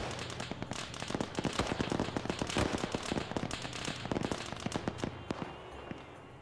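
High-explosive rounds detonate in the video game Arma 3 in a rapid, irregular string of sharp cracks and pops, like distant firecrackers. Faint background combat noise runs underneath.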